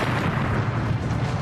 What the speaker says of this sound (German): In weniger als einer Fünftelsekunde explodieren bis zu 7 Torpedos.